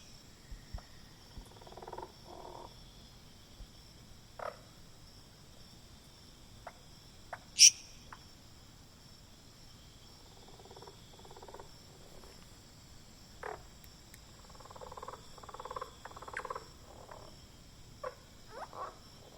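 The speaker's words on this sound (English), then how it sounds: "once you come down to the lowlands in Tela, you have a much higher abundance of individual frogs, but they're more generalist species, and that's some of the ones that you hear here" Lowland frog chorus in Tela, a quiet night soundscape of scattered croaks and short calls over a constant high insect whine, with one sharp chirp standing out midway.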